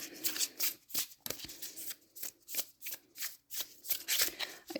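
Tarot cards being shuffled by hand, a quick steady series of soft riffling bursts close up, about a dozen rapid flicks over a few seconds with no talk.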